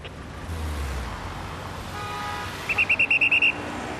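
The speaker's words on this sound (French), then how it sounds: "un seul instrument de travail indispensable, le sifflet" A French police officer directing traffic blows a whistle in a quick series of about eight sharp, shrill bursts over a steady hum of passing road traffic.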